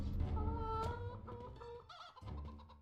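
Chickens cluck inside the video game Poppet Quest, a 3D metroidvania. A steady, fairly loud run of fowl-like clucks and squawks fills the moment, with no talking over it.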